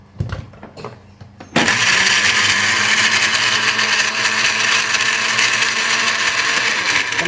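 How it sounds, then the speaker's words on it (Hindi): An electric blender whirs loudly and steadily as it blends a strawberry drink with lemon juice. Quiet handling noises come first, then the motor starts abruptly and runs continuously to the end. "लेमन जूस डालने के साथ हम इसे फर्स्ट ब्लेंड करेंगे।"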